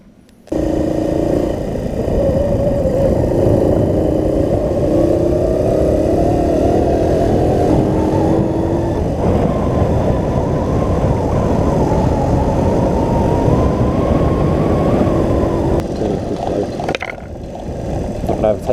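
A PC50 moped engine buzzes steadily while riding on a road, a continuous nasal drone that rises and shifts in pitch with throttle, fairly close and loud, tapering off near the end as wind and handling noise take over.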